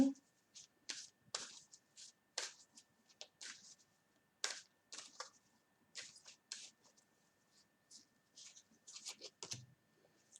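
Tarot cards are shuffled in irregular bursts of crisp riffling and slapping, close and quiet, with brief pauses between handfuls and a faint voice at times.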